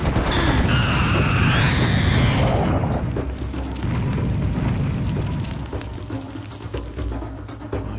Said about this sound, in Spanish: Aquí unos cohetes van a venirle muy bien a estos.